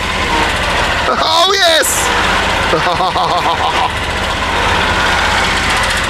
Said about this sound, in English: we get to use these 2 levers to drive the lawnmower.